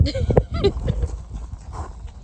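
Horse sounds up close outdoors in the mountains near Tucson, Arizona, snorting and shuffling with some low thumps, fairly quiet with faint background noise.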